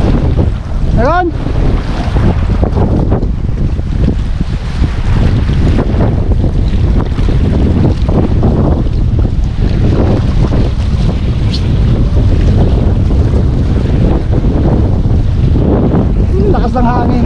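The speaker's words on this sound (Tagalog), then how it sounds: "Lakas ng hangin." Strong wind buffets a small boat at sea, roaring continuously across the microphone with sloshing water beneath, while people talk intermittently over the gusts.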